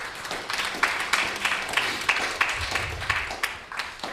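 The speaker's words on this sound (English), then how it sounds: "Let's give them a big round of applause, please." A temple audience claps in steady, moderately distant applause at a community gathering, a soft patter continuing without pause.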